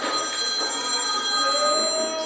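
A mobile phone rings with a steady electronic ringtone, holding clear sustained tones throughout at moderate loudness against a room background.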